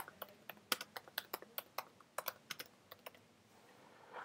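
Code typed on a computer keyboard for a Python 3 Hello World program: a quick run of about twenty crisp, close key clicks in an uneven rhythm, thinning out toward the end, with no talking.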